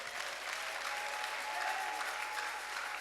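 A church congregation bursts into applause, a dense continuous wash of clapping that holds steady for a few seconds with no voices.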